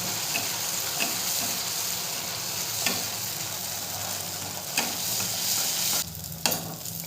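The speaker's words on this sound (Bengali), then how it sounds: "এভাবে সমস্ত মালপোয়াগুলো আমি এক এক করে ভেজে নেব" Malpua batter frying in hot oil in a wok (kadai), a steady close sizzle broken by a few sharp clicks of stirring or turning, with no talking.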